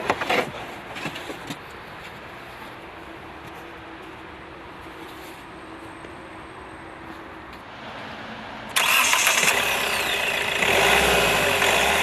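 A powerful diesel car engine drones steadily at moderate volume from inside the moving vehicle, then grows noticeably louder and rougher for the last few seconds.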